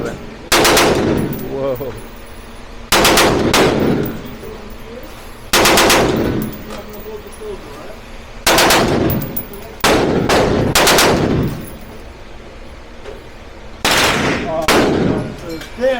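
Gunfire at a Las Vegas shooting range: loud, close bursts of rapid automatic fire come in about six separate volleys with short pauses between them, and a single voice exclaims briefly.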